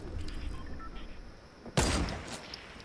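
A single sharp gunshot cracks loudly in a Fortnite match, a sudden burst with a short decaying tail, following a stretch of quieter background game noise.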